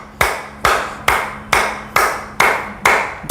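Hands clap together hard in a clapping exercise meant to stretch the shoulders, eight sharp claps in a steady rhythm, loud and close, with no voice over them.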